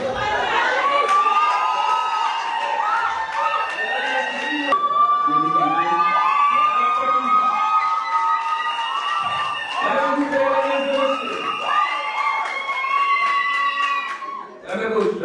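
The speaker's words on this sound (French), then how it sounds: "On continue d'applaudir, s'il vous plaît." Studio audience cheering and shouting, with high excited voices and whoops rising and falling throughout, loud and sustained, with clapping buried underneath.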